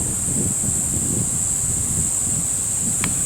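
Steady outdoor wind buffets the microphone in a continuous low rumble with a constant high hiss, no voices, heard out in nature.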